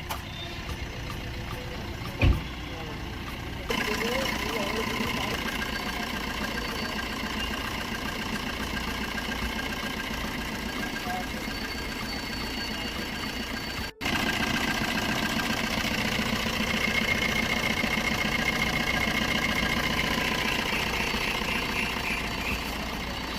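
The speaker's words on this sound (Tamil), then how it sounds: "இப்போ வண்டி இன்ஜினை ஸ்டார்ட் பண்ணி காமிக்கிறோம்." A used diesel car engine is started and left idling, giving a steady, close clatter with a brief jump in level partway through and no talk.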